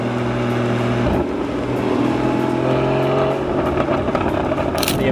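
A Porsche 981 Cayman GT4 engine drones loudly and steadily from inside the cabin in fourth gear, holding a constant rev with a slight shift in pitch partway through.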